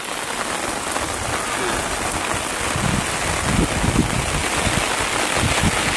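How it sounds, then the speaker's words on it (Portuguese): Steady rain falls in the Bahia sertão in the late afternoon, a dense, even hiss of drops on the ground and surfaces, close and continuous with no voices. "A chuva tá muito mais forte, não."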